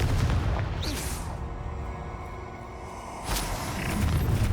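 In Hogwarts Legacy, a Confringo spell bursts with a deep booming explosion, followed a couple of seconds later by a second blast, both loud against a dense rumbling game soundscape.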